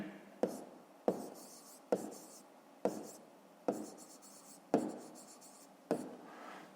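Pen on paper writing out a fifth-grade math answer, seven soft scratchy strokes in a steady rhythm, each a short rasp that fades, quiet and close.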